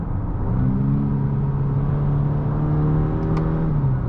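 A 2020 Honda Accord EX-L 2.0T engine revs up during a downshift, heard from inside the cabin as a smooth rising hum that holds high and then eases off.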